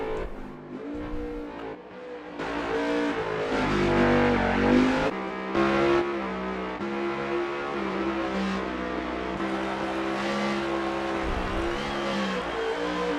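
Race cars in NASCAR Heat 5 on the Roval road course, engines droning and revving continuously at moderate volume, several cars blending into one buzzing, shifting whine under caution-pace driving, with no talk.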